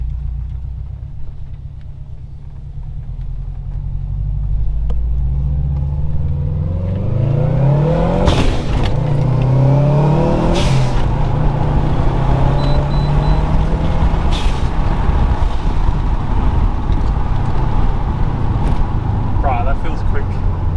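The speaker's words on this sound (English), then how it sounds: "I do a bit of first gear pull." A 2012 Subaru WRX fitted with a Mishimoto intercooler pulls hard in first gear, its engine note rising loudly from a low idle rumble to a sustained, high-revving roar, heard from inside the car.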